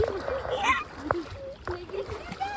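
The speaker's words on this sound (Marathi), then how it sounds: "चला आपण नदी पार करतोय" Water splashes irregularly as people wade across a shallow river in the Konkan countryside, the close sloshes and splatters mixed with voices talking nearby.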